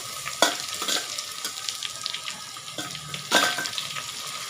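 Crushed ginger and garlic dropped into hot oil with fennel and curry leaves for a crab masala, a bright sizzle with two sharp bursts as ingredients hit the pan, and light stirring in between.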